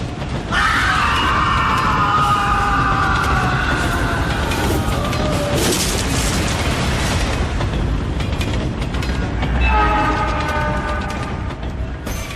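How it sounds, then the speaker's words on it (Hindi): A moving train rushes past loudly in a horror story sound effect, a dense rumbling roar with screeching, whistle-like tones rising and fading above it, continuous and close throughout, mixed with what may be screams. "विक्रम को चलती ट्रेन के नीचे फेंक दिया किसी न दिखाई देने वाली शक्ति ने।"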